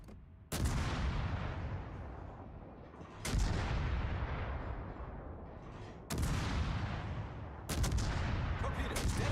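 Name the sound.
anti-aircraft gun fire in a naval video game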